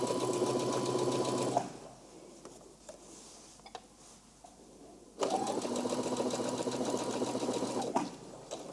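A sewing machine stitches darts in a dress in two bursts: a steady run at the start, a quiet pause with small clicks, then a second sustained stretch of stitching, fairly soft and close.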